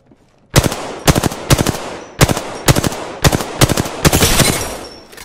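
Rapid bursts of automatic gunfire in the Apex Legends battle royale shooter, loud and close, firing in several repeated volleys with short gaps between them.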